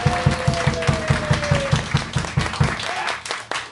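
Crowd applause at a tribute band concert at the Penny Lane venue, a dense wash of clapping with a steady rhythmic thump running underneath, and a tone sliding across the first part.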